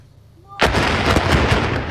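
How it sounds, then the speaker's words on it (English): The demolition charge on the I-70 Rockport Bridge over the Missouri River goes off after a quiet moment as one sudden, powerful boom. It rolls straight into a sustained, rumbling roar of collapse. "Watch now as an explosion brings down a historic Missouri bridge."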